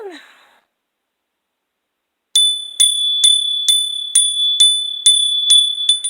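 A small bell rings about ten times in a bright, evenly spaced series of metallic dings after a brief breathy sigh and a moment of silence.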